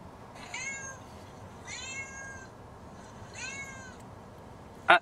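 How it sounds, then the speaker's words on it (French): A pet cat meows three times at a steady pace, with drawn-out, moderately faint calls in a quiet room. A brief sharp click follows at the end. "C'est José, notre chat."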